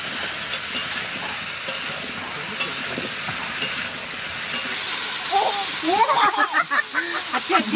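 Cauliflower fries in a pan with a little salt and turmeric, giving a steady close hiss and sizzle, broken by scraping stirs and light clinks that grow busier near the end.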